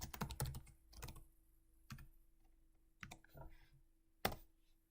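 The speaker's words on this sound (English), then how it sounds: "And then I'm just going to type Hugo server." Keystrokes on a computer keyboard at a Windows Terminal prompt: a quick burst of clicks at the start, then scattered single taps and short runs, close and fairly quiet, with no talking.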